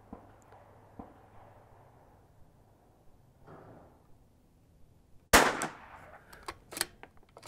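A Ruger Mark II pistol fitted with a Holosun 507C sight fires at an outdoor range, one sharp, loud crack late in the clip after a quiet stretch of faint background noise, followed by a few fainter echoes and clicks.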